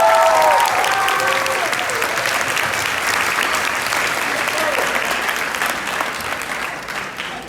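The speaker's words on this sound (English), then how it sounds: "please join us in a huge round of applause" Sustained applause from the audience at a school sports banquet, dense and loud at first and then easing off, with a few voices whooping and calling out over the clapping.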